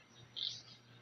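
A single short, bright chirp comes from African lovebirds kept in a cage. It is faint and quick against quiet background hiss.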